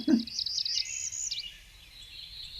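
A small warbler sings a short, high, clear phrase that ends in a quick trill, fairly close and distinct against a quiet background.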